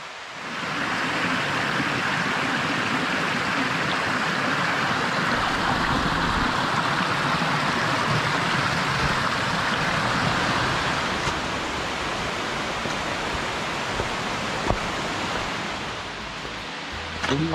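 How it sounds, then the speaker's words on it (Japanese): Steady rushing water from a mountain river near Mount Mitō in Okutama, Japan, fills the scene, a broad continuous flow with no voices. "川が近づいてきました。"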